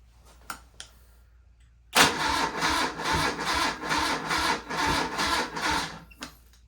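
A BMW R75 motorcycle engine with choke applied cranks sluggishly on a weak battery, giving about four seconds of slow, rhythmic churning strokes close by, then stopping.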